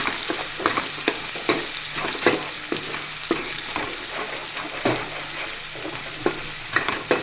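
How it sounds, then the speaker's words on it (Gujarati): Spices fry and sizzle in a pan for a ridge gourd and tomato curry, with a steady hiss and regular knocks and scrapes as a spoon stirs, close and without talk. "પછી એને હલાવી નાખવાનું"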